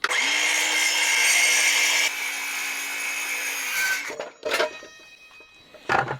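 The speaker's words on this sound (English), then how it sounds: "that's a Dewalt, what's the number? DCS 373 20 volt cordless metal cutting circular saw." Dewalt DCS373 20-volt cordless metal cutting circular saw cutting through wood: a loud, close, steady whining buzz for about four seconds, then the blade winds down, followed by a few brief knocks and clatters.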